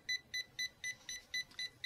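A hair styling tool beeps rapidly in short bursts, signalling tangled hair, repeating steadily about every quarter second, fairly close and clear with no voices.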